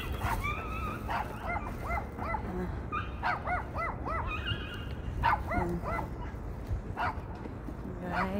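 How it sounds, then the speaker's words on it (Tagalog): Dogs at a home bark and yip in short, repeated bursts, some high and whimpering, at moderate distance over a low background murmur. "Yan may palaaway nilang aso."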